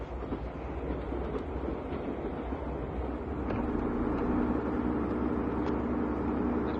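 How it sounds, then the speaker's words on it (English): A train rumbles at a railway station platform, a steady low mechanical drone with faint rattling that grows slightly louder midway, heard without speech. "Train on platform 2 is the 12:10 from London Paddington."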